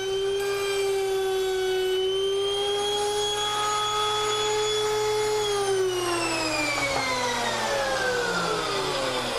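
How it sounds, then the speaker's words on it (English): A woodworking router cuts a through rabbet in wood boards, a loud, steady high-pitched whine close up that holds level, then slowly drops in pitch as the cut finishes and the bit spins down. "Both of my boards get this through rabbet cut at this first depth setting."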